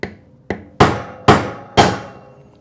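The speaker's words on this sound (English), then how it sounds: "We'll give it a few taps with the hammer." A steel hammer taps a bearing and seal driver while seating a bottom-end bearing during a ProX CRF450X motorcycle engine rebuild: five sharp, close metallic strikes, two lighter ones followed by three heavier ones, each with a short ringing decay.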